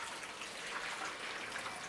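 Hot water poured into a newborn's baby bath gives a steady, soft, broadband splash and gush, fairly faint and continuous for the whole moment with no talk over it.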